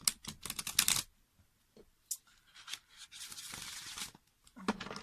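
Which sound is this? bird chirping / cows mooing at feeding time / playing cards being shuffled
playing cards being shuffled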